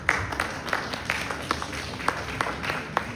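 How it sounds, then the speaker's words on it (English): An audience at an immersive-technology trade event claps in a thin, sparse round, with separate hand claps landing in a loose, even rhythm at moderate loudness. "I know it's quite warm, so clapping takes all the energy that we don't need anymore."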